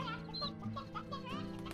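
A chicken in the video game Slime Rancher gives a few quick, faint clucks while a player speaks over it.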